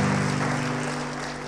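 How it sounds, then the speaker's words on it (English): Clapping from a church congregation joins in with a guitar-backed song over a held low musical drone, the hand claps forming a continuous, moderately loud patter. "Hey Carl, can you hit up some clapping for everybody?"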